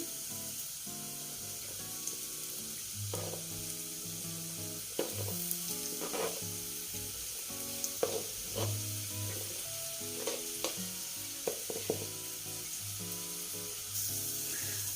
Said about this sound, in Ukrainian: Далі ми обсмажимо моркву і цибулю.